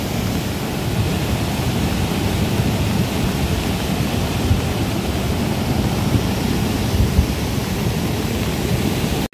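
Flooded Sardu river rushing in heavy flow during rain, a dense, constant roar of churning water with no breaks, loud and close, with no voices.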